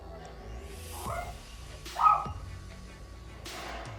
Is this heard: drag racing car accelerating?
no